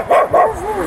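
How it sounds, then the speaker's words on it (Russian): A dog on a city street gives two quick, close barks followed by a drawn-out whining whimper, all within under a second. "Привет, собака, привет."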